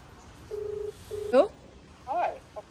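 A phone call to a landlord in Guwahati rings out with two short, faint ringback tones, then a voice speaks over the line.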